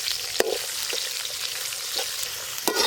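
Steady sizzling of onions frying in oil, with a few soft stirring scrapes breaking through the hiss.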